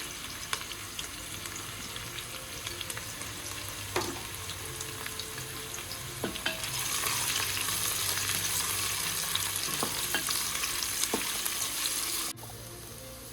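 Three small onions fry in a pan for mutton biryani, giving a steady close sizzle with occasional stirring clicks, the frying growing louder midway and continuing without talk.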